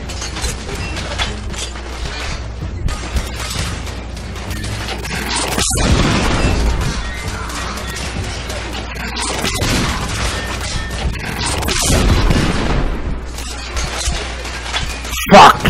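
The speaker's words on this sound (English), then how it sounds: "This bazooka. Fuck the rebels up." Bazooka fire and heavy explosions in the video game The Order: 1886, with loud booming blasts near 6, 10 and 12 seconds over constant mechanical combat noise and clatter.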